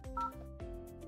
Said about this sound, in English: So we'll hit transfer, dial Kyle's extension